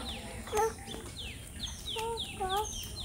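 A chicken clucks in short repeated bursts, with a few sharp calls spread across the moment, heard outdoors near a duck house with faint background noise.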